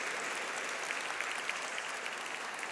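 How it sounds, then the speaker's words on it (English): Steady applause from an audience at a store launch event, dense clapping filling the whole moment at moderate volume with no talk over it. "yes, you can give it a round of applause."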